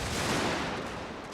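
Dense, continuous volleys of soldiers' gunfire in a war strategy game, loud and rumbling throughout without pause.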